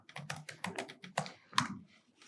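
Typing a command on a computer keyboard in a terminal, a short run of distinct close keystrokes with light clicks, no voices.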